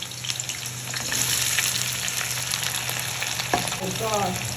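Chopped onion frying in hot oil, a close, dense sizzle that swells after the first second and holds steady, with a brief knock and a faint tonal sound near the end.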